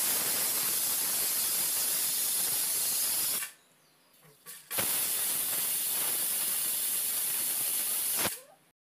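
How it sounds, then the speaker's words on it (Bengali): A pressure cooker cooking mutton curry lets off steam in a loud, sustained hiss, breaks off briefly, then hisses strongly again before cutting off. "কুকারের ঢাকাটা বন্ধ করে এবারে 3 থেকে 4টা সিটি পড়া অবধি অপেক্ষা করব।"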